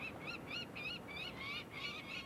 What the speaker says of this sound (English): Just because the baby birds are screaming doesn't mean we're hurting them.